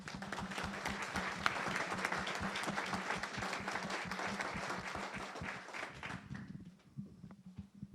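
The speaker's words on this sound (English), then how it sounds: "join me in giving a round of applause" A room full of people applauding at a symposium awards ceremony, steady dense clapping that holds for several seconds and then tapers off into a few scattered claps.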